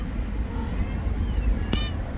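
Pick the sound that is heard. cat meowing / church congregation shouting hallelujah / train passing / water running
cat meowing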